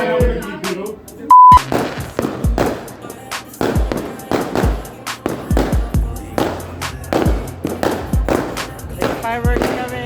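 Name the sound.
New Year's Eve fireworks exploding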